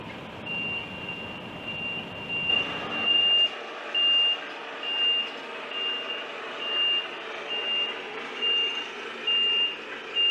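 A heavy goods lorry reverses at an awkward angle into a yard, its reversing alarm beeping steadily in evenly spaced pulses over a low diesel engine rumble that drops away partway through.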